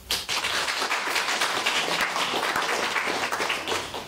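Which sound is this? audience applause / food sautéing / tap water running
audience applause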